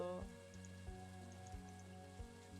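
Soft rain hiss falls in a fishing video game. It sits quietly under the game's steady looping background music, faint and continuous throughout.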